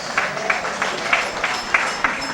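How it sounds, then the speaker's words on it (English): Audience applause fills a town hall meeting, a dense wash of clapping with distinct individual claps standing out, steady and fairly close. "Give him a round of applause."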